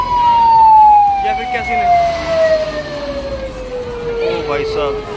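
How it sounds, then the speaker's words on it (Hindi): An ambulance siren wails in a long, slowly falling tone as it passes close by, with people talking over it and traffic noise underneath. "बाप रे भैया एम्बुलेंस साइड हट रही है"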